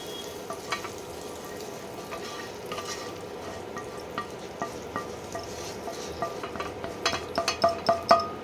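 Hot oil poured slowly onto yogurt for a chicken gravy salad, giving a close, steady sizzle and crackle that grows into sharper popping bursts toward the end, with no talking.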